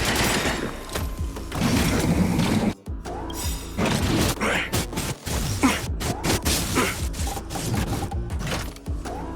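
A firing squad's volley of gunfire rings out in the video game Honkai: Star Rail, a dense run of loud, overlapping shots, crashes and mechanical clatter with brief gaps of silence.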